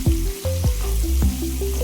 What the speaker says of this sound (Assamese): মাছ আছে যেতিয়া মাছ ভাজিছোঁ